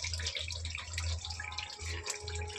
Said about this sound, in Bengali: পরিমাণ মতন গরম জল দিয়ে দেবো।